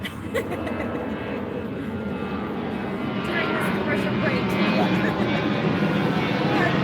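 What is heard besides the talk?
airplane flying overhead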